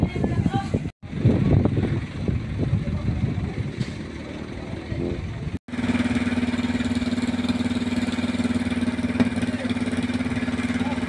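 A fishing boat engine idles at Calatagan, Batangas, first under rough, broken noise with a couple of abrupt cuts, then settling into a steady, loud low hum.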